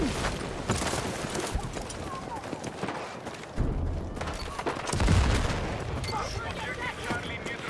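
A grenade goes off in Battlefield 6 amid rattling gunfire, with a heavy low boom just past the midpoint and another thump earlier, people talking over the battle.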